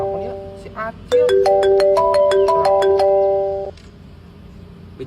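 A phone ringtone plays loudly and close by as a bright electronic melody of rapid repeated tones lasting a few seconds, preceded by a short burst of similar beeps, then cutting off into quiet room noise.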